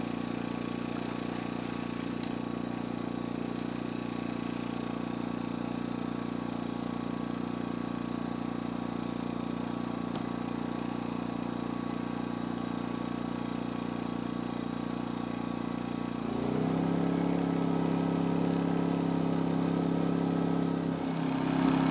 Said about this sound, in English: So you can hear the RPM go up and the noise level go up when I plugged in the battery bank.